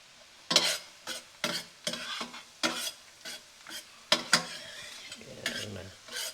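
Food is sautéed in a pan while cooking a Cajun seafood boil, with repeated close scraping stirs of a utensil over a soft sizzle, in irregular bursts about every half second to second.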